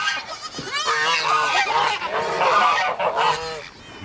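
Farm geese honking loudly and continuously at feeding time, a dense overlapping chorus of nasal calls from several birds close by.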